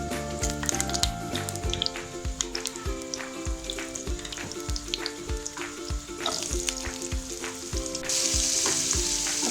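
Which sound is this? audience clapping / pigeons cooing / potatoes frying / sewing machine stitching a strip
potatoes frying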